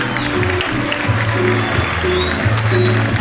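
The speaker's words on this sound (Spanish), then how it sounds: "Con este aplauso se van retirando los jugadores." A stadium crowd of Club Olimpia supporters applauds steadily as the players leave the pitch at half-time in a Paraguayan league match against Sportivo Luqueño. A continuous distant wash of clapping runs under a commentator's voice, with faint whistles.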